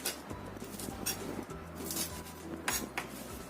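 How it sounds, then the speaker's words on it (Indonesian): A knife chops washed celery and spring onion leaves into large pieces on a board, a series of sharp taps with irregular pauses between them, close and fairly loud. "Kemudian kita potong-potong agak besar-besar aja seperti ini."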